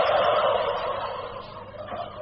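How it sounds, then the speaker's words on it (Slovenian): Turkeys in the parent flocks of a large turkey breeding farm, with heavy males, gobble loudly and continuously in an overlapping chorus close by. "Ovo su prva matična jata iz kojih će se roditi metropola purana."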